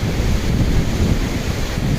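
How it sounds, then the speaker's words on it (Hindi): The Pindar river, fed by the Pindari Glacier, rushing at the Karnaprayag confluence with the Alakananda in Uttarakhand, a loud steady roar of water mixed with wind buffeting the microphone. "ये है पिंडर नदी और इसका उद्गम होता है पिंडारी ग्लेशियर से"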